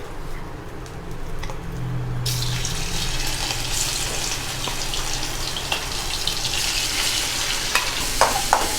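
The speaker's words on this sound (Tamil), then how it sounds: "மேரினேட் பண்ண சிக்கனை போட்டு நம்ம நல்லா சாட்டே பண்ணி எடுக்கலாம்" Marinated chicken pieces for fried chicken donuts dropping into hot oil, a quieter hiss that suddenly jumps to loud, bright sizzling and keeps crackling with scattered pops and stirring clicks.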